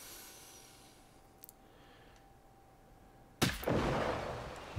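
A single sharp gunshot cracks out in Generation Zero, loud and sudden after a stretch of quiet ambience with a few faint clicks, its echo rolling off for over a second.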